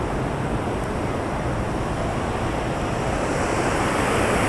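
A waterfall in full spate in the Angus Glens, swollen with heavy water, gives a loud, unbroken rushing roar close by, with no voices over it.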